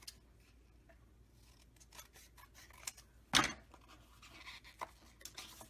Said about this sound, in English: I can cut this paper right here